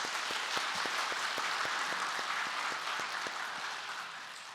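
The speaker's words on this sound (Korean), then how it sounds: "우리 서로를 위해서 박수 한번 하겠습니다" A church congregation at a special early-morning prayer service claps together, distinct individual claps standing out over a dense steady patter, fairly faint and fading slightly toward the end.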